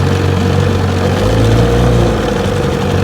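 A restored vintage Evinrude outboard motor runs on a test run on a bayou, giving a loud, steady, close engine drone with a slight rise in revs partway through.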